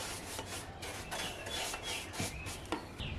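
A wax brush rubs furniture wax into a vintage chalk-painted wooden piece, giving soft repeated bristly scrubbing strokes at close range, quiet and steady with no talk.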